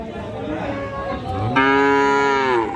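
A Friesian cross bull calf gives one loud, drawn-out moo close to the microphone, rising into a strong harmonic bellow that holds for over a second, with faint crowd chatter of a cattle market underneath.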